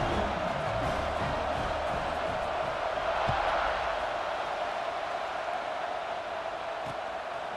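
A stadium crowd at a football game, with a dense roar of many voices that stays steady and loud, rising slightly midway, while a commentator speaks over it.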